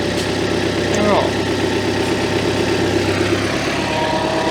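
A tractor engine idles with a steady low throbbing rumble, loud and close throughout, while voices speak over it.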